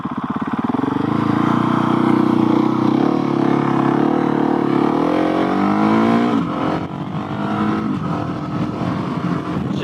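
A Husqvarna 701 single-cylinder motorcycle cruises at highway speed, its engine droning loud and close with a steady hum that rises in pitch, then shifts as the rider changes throttle, with rushing wind throughout.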